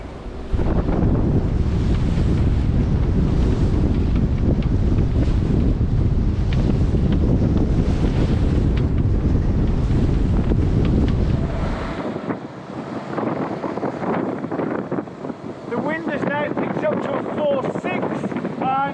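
Strong wind roars continuously across the microphone with rough winter sea waves crashing and surging around a sailboat, loud and close; the heavy rumble eases partway through while the sea continues.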